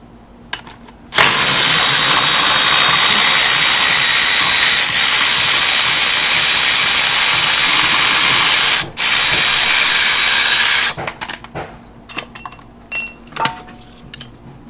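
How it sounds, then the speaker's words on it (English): A power ratchet backs out a starter bolt on an LS swap engine. It whirs loudly and continuously for several seconds, breaks off briefly, then runs again. Scattered metallic clicks and clatter follow up close. "we're going to pull out our other starter bolt."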